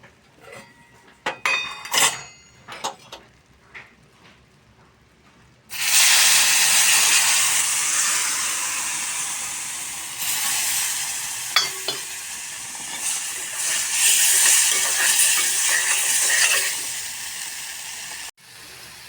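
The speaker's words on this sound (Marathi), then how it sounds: "आता ह्याच्यात मी दूध घालणार." Roasted wheat flour for sheera is scraped and stirred with metal clicks, then milk is poured in and a sudden loud, steady hiss and sizzle takes over, swelling and fading as it is stirred.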